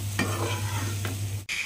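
Potatoes fry in a pan with a steady close sizzle while a utensil stirs them, giving a couple of scraping strokes before a brief pause.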